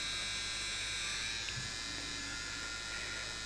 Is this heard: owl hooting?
no